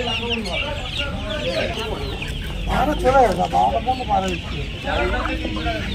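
Roosters and hens clucking at a poultry market, many overlapping clucks and squawks close by with a brief crow, set against a busy crowd murmur.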